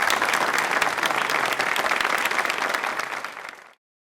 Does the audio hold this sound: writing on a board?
no